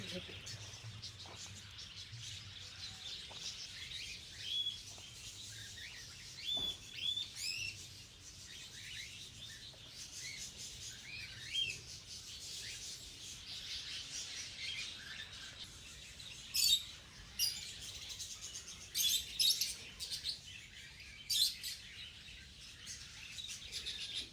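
Budgerigars and sparrows in an aviary chirping and tweeting in scattered bursts, fairly faint over a continuous low background, with occasional louder calls.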